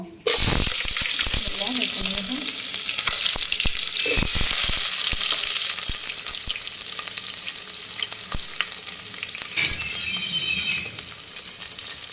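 Onions frying with a bay leaf in a pot, a loud crackling sizzle bursting in at the start, then settling to a steadier, softer hiss with scattered pops and stirring.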